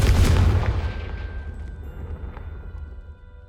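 A Confringo fire-blast spell bursts in Hogwarts Legacy, one heavy booming explosion up close that rolls off into a long fading rumble.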